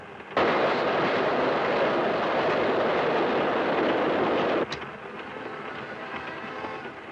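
A loud, steady rumble of a train rolling along the rails, heavy and close, then abruptly dropping to a quieter, more distant roar.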